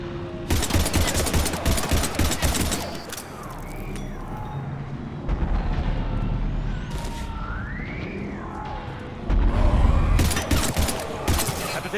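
Rapid bursts of gunfire and explosive booms from a Mass Effect 3 combat scene against Husks, loud and dense throughout with brief lulls and a heavier surge near the end.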